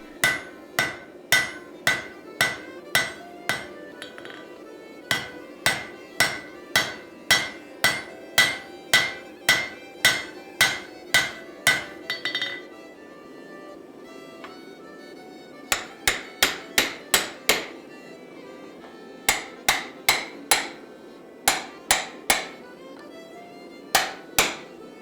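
Hot steel being hammered on an anvil to close and thin the folded stock for a forge-welded laminated axe, heard as steady, rhythmic, ringing blows in fast runs with short pauses between bursts, loud and close, with no talking.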